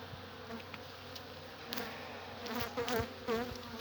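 Honeybees buzz steadily during a brief winter inspection of an opened hive, a close, dense drone with individual bees swelling louder as they fly past near the end.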